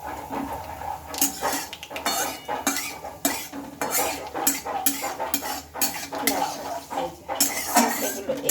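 Bay leaf, dried red chili and nigella seeds tempering in hot oil in a pan, stirred with a metal utensil: repeated loud scraping and clanking against the pan over a soft frying hiss, with no talking.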